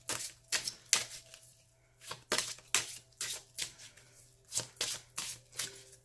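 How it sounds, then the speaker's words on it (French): Tarot cards are shuffled by hand in a daily card reading, close and fairly quiet, in a series of quick riffling bursts of crisp papery flicks separated by short pauses, with no talking. "Alors, on mélange bien et ensuite on coupera et on regardera"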